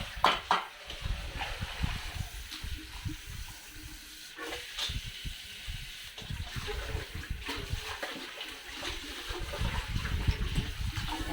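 Water splashes and runs steadily under a faucet as a cooking pot is rinsed and scrubbed indoors, a continuous loud wash with clanks and small knocks of the pot throughout.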